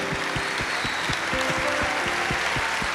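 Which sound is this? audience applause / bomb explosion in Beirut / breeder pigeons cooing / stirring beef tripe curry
audience applause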